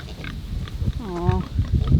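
Pigs huddled together in a pile on a frozen winter morning, giving low close grunts and one longer squealing oink over a rustling background.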